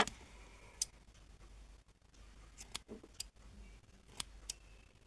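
Crochet yarn cut with scissors, a few isolated sharp snips and clicks spread over a quiet, slightly hissy background.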